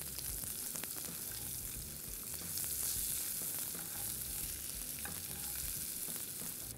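Onions and potatoes fry in a pan for a potato omelette, giving a loud, steady sizzle with occasional clicks from stirring. No one talks.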